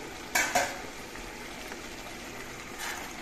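A spoon stirs chicken curry in a pan, with a pair of sharp scrapes near the start and another one near the end, over a faint steady simmer with no voices.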